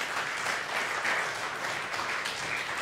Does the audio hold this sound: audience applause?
yes